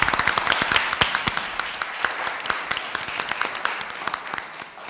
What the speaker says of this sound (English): let's all give all the honorees a huge round of applause